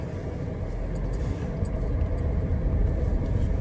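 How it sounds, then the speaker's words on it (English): A 2007 Hyundai car on a test drive gives a steady low road rumble from inside the cabin, the engine and tire noise swelling slightly louder partway through, with no talking. "So we're gonna drive it around, give it a little test drive"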